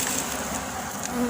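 Dense, steady buzzing of many honey bees around an opened hive in Jamaica, loud and close, with no talk.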